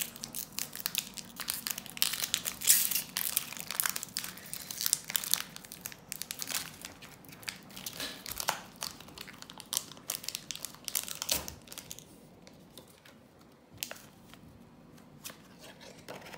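Pokémon Radiant Destinies booster packs being opened, foil wrappers crinkling and crackling in irregular close bursts with some tearing, quieter handling toward the end.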